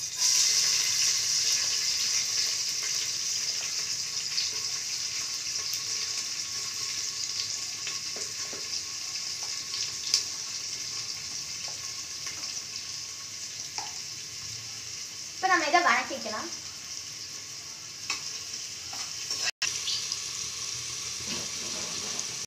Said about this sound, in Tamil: இப்போ நம்ம பெரிய வெங்காயமும் கருவேப்பிலையும் போட்டுக்கலாம்